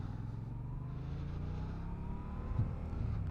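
Yamaha MT-07 motorcycle engine pulling steadily on an open road, a continuous droning rumble that holds fairly even and swells slightly near the end, with wind noise and no talking.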